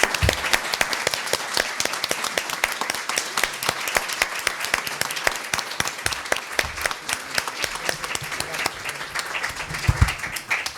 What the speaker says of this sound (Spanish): Colega, un fuerte aplauso.